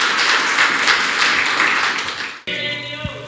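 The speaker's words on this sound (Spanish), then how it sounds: "Dale un fuerte aplauso al Señor" A church congregation applauds loudly in a sustained wash of clapping that ends sharply, followed by someone speaking.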